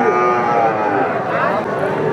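A large Sahiwal breed bull at a village cattle market moos in one drawn-out low call lasting about two seconds, close to the microphone, with market chatter faint behind it.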